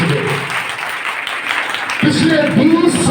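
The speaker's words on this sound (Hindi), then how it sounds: "तो भाई अपने लिए तालियां बजाएं" Applause from the audience at a cooking competition held at a government women's college breaks out partway through, a loud clapping that swells over someone talking.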